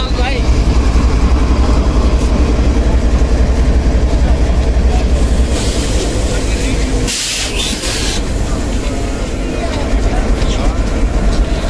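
The Awami Express pulls out of Karachi bound for Peshawar in the morning, a loud steady rumble and rush of rail noise filling the clip, with a brief bright hissing burst near the end.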